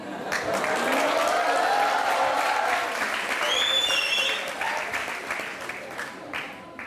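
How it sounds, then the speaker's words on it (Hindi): A studio audience at a televised courtroom-style talk show bursts into sustained applause that swells, holds, then gradually thins out, with a few whistles rising above the clapping. "इन्होंने आपके लिए तालियां बजाई, आप मेरे लिए बजाई।"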